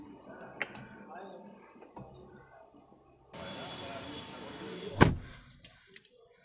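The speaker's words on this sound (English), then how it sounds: "you can listen the thud in the door" A single solid thud of a full-metal Mahindra XUV700 AX7 door shutting, loud and close, following a stretch of quiet background noise.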